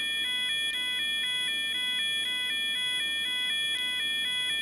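A fire alarm from a GTA 5 fire alarm mod sounds continuously, a loud electronic tone pulsing in a fast, even two-note pattern with no voices.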